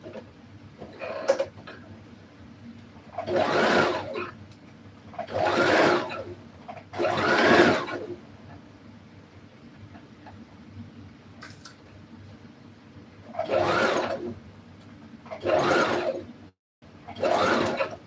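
Sewing machine stitching a pant seam in several separate bursts of rapid whirring, each lasting about a second or two, close up with quiet pauses between runs.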